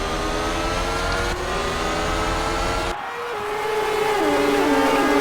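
A race start in a racing video game, with IndyCar-series open-wheel cars at the Grand Prix of Mexico roaring and revving hard together as they accelerate off the line. There is a sharp shift in the engine note near the midpoint as the pack pulls away.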